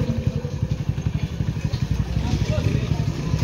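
A motorcycle idles nearby with a steady low, pulsing throb of engine firing, its beat continuing evenly throughout.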